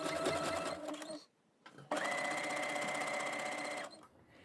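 A sewing machine zigzag stitching elastic onto a bralette, loud close whirring runs with a brief pause before a second, steady burst that stops abruptly.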